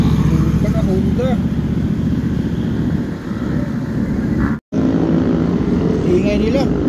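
Loud big-bike motorcycles roar past on a road at Devil's Corner, a steady, heavy engine drone that fills the scene with a brief drop-out midway, while people talk over it.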